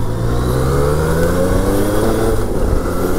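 Motorcycle accelerating as it overtakes a lorry on a mountain ride to Kundasang, engine tone climbing steadily and loud throughout with heavy wind and road rumble.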